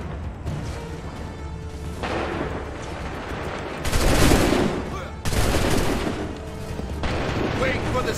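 Musket volleys in Assassin's Creed III set against a battle backdrop: two heavy, booming rounds of massed gunfire burst out several seconds apart over a rumbling din, with voices mixed into the noise.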